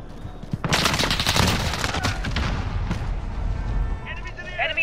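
Gunfire in Call of Duty: Modern Warfare on the Shoot House map, with dense, loud bursts of automatic fire and booming shots piling up over several seconds, trailing into scattered pops.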